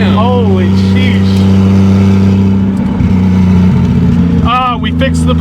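A 2JZGE-swapped MK3 Toyota Supra pulls hard in third gear with a loud, steady engine drone inside the car, while excited voices talk over it.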